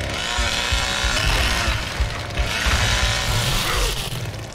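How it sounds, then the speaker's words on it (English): Chainsaw roaring continuously as it saws through a victim in The Texas Chain Saw Massacre game, loud and steady with grinding mechanical rattle throughout. "We're sawing him up."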